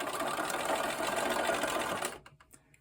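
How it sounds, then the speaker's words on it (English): A sewing machine stitching quilt pieces for a feathered star block runs in a fast, steady whir up close, then stops abruptly, leaving a few faint clicks. "I just sew 1/4 inch over."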